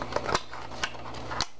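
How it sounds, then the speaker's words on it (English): Scissors snip through plastic candy packaging up close, with a few crisp cuts and rustles over a low steady hum and no speech. "I think I have to cut it with the scissors"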